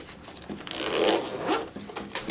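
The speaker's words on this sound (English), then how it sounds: "So then I'm just gonna shut it, zip it up" A zipper runs shut on a small makeup storage bag, one quick close-up pull lasting about two seconds, heard on its own.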